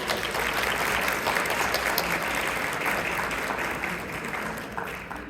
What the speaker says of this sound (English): can we give my mom another hand of applause, please?